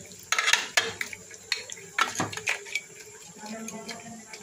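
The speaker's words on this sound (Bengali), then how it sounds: "একটু পরপর নেড়ে দেবো আর রান্না করবো।" Meat for kala bhuna being stirred and cooked in a pot, with close scraping strokes of a spoon and a soft sizzle underneath, while someone speaks quietly now and then.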